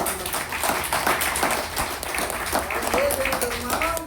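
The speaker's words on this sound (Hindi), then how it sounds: "जोरदार तालियों से" Steady crowd clapping from an audience at a motivational product seminar, a dense patter of many hands held at a moderate level throughout, with a voice briefly audible near the end.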